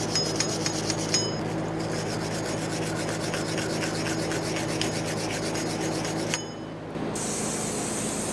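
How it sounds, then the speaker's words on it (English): Steady scraping and rubbing as the axle hub mounting surface of a 1998-2011 Ford Ranger is cleaned during a rear brake job, a continuous close rasp with regular strokes, a brief dip near the end, no talking. "Now it's time to clean the mounting point on our axle hub area here."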